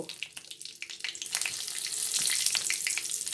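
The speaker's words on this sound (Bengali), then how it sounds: "তেলটা গরম হলে তাতে আমি দিব তেজপাতা, দুটো গোটা শুকনো লঙ্কা, দারচিনি, এলাচ, লবঙ্গ" Whole spices (bay leaf, dried chilli, cinnamon, cardamom, clove) sizzle in hot oil for muri ghonto, a steady frying hiss that builds louder with crackly pops throughout.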